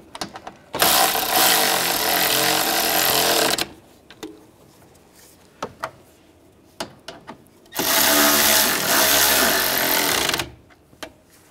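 Screws being driven in while fitting a radiator on a 2013-2016 Dodge Dart 2.4L, with two loud, sustained whirring bursts of a power driver separated by quieter clicks and clatter of parts.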